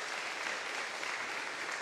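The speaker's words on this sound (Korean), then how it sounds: "박수로 우리 환영하고 축하하기." A church congregation claps steadily to welcome visitors, a dense, even wash of applause from a roomful of people heard at moderate distance without speech.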